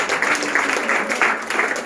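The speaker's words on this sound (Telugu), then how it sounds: "మరి క్లాప్స్ కొట్టరా, ఇలాంటి వాటికి క్లాప్స్ కొట్టాలి" Audience applause fills a women's college guest lecture hall, a dense steady wash of many hands clapping together for the full stretch, fairly loud and even with no gaps.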